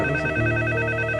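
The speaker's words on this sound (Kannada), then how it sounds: "ಕೃಷ್ಣಾಚಾರ್ಯ, ಫೋನ್ ಯಾರು ನೋಡ್ರಿ." A telephone rings steadily indoors in a Kannada drama scene, a loud continuous electronic ring filling the short moment with no voices.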